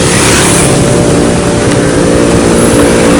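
A motorcycle engine drones loudly and steadily as the bike is ridden past a fishing spot, with heavy wind buffeting the mic the whole time.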